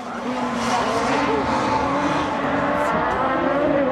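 An autocross race car at the European Championship drives hard and continuously, its engine roaring steadily with tire scrub, heard from trackside under a commentator's voice.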